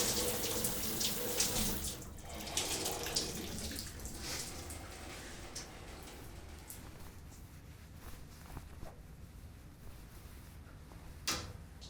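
Steady running water from a shower fills the space, a broad continuous hiss that holds evenly throughout with faint knocks and small splashes, no voices.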